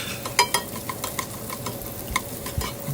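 A vegetable mixture of onion and serrano chiles tumbles into a hot pan for shrimp fried rice, giving sharp clinks and scrapes as it is pushed around, over a continuous close sizzle.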